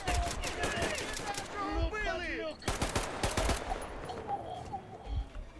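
Gunfire in the Metro Exodus video game, with a quick burst of rapid shots in the middle between stretches of game sounds and a speaking voice.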